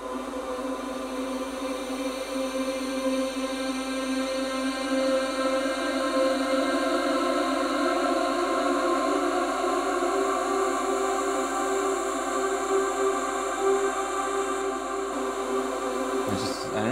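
Vocals stretched through a Paulstretch plugin become a continuous drone of sustained, smeared tones. It stays steady and moderately loud throughout, with a shift right at the end.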